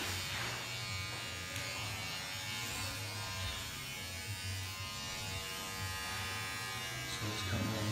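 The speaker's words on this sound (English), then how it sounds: "It's my mini trimmers." Mini hair trimmers buzzing steadily during a short creative women's haircut, a low electric hum held close and continuous with slight shifts as the blade moves along the outline.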